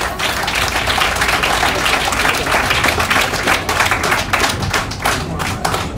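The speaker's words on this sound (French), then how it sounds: "On applaudit." Audience applause at a gathering, dense continuous clapping from many people, loud and close, with sharp individual claps standing out through the whole stretch.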